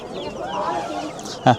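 Australorp chickens murmur and cluck softly nearby at a poultry market, with one short sharp squawk near the end and faint talk mixed in.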